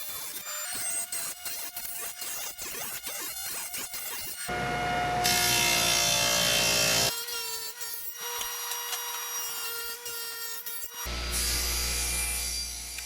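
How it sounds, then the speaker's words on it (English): Dado being cut into the top of a reclaimed wood cabinet, heard as steady rasping, rubbing wood-cutting noise with repeated strokes and shifting louder and quieter tool passes, close and continuous with no talking. "Right now I'm cutting a dado into the top and eventually the bottom to accept the back of the cabinet"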